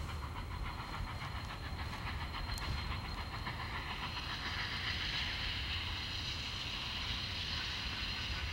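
Union Pacific 844, a half-century-old Alco steam locomotive, runs on a main line near Cheyenne, giving a steady, distant rumble and hiss with faint rhythmic clatter throughout, no voices.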